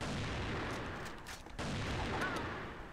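AWM sniper rifle fire in an online shooter game, heavy booming shots blending into a dense, loud wash of game noise for a few seconds, with no clear pauses between them.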